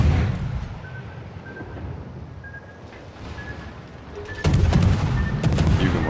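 Naval gun salvos from the destroyer Cossack in World of Warships, with four twin turrets: booming, rumbling broadside fire and a sharp, louder burst of shots near the end over a dense battle din.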